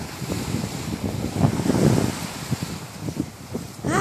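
Ocean waves wash onto a beach in a steady, moderate roar, with some gusty wind buffeting the microphone and no one talking.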